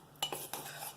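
A KitchenAid stand mixer's metal beater knocks against the bowl while stirring carrot cake batter, a few light clinks over a soft steady hum, close and quiet.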